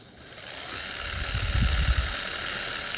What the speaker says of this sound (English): I'm just letting the machine work.